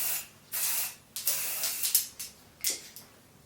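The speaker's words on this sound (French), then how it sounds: "Donc Bioré UV Spray. SPF 50+, PA+++. Et c'est un spray sec." Bioré UV dry sunscreen spray, SPF 50+, is released in a series of short, close hissing bursts of varying length, separated by brief pauses and heard alone.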